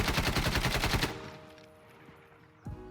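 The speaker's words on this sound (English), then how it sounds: "Now let's go ahead, full auto, Ace 52, compensator this time" Rapid full-auto burst from an ACE 52 rifle fitted with a compensator in a video game, a dense rattling string of shots for about a second, then fading echo and a faint clunk.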